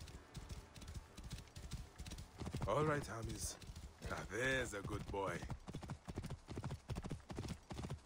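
Horse hooves clip-clopping in Assassin's Creed Origins, a steady rhythmic trot throughout while someone talks to the horse, with whinny-like vocal bursts in the middle.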